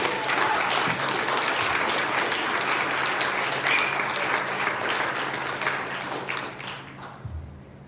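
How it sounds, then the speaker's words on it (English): A school assembly audience at St. Anne applauds steadily for several seconds, dense clapping filling the room before tapering off near the end. "let's give these guys a big round of applause if you don't mind"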